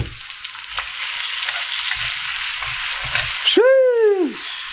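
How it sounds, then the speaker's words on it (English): Diced red chilies hit hot oil for aglio e olio, giving a continuous loud sizzle and crackle, with a brief swooping vocal exclamation near the end. "we're gonna go ahead and throw in these diced up red chilies"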